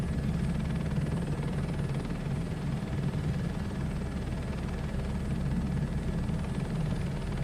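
A search and rescue helicopter in Microsoft Flight Simulator 2024, its steady rotor and engine drone unbroken and fairly loud throughout, with no voices.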